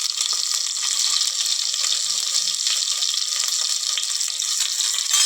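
Boiled eggs fry in a pan with salt, turmeric and chili powder for egg biriyani, a steady close hiss and sizzle throughout with no talking.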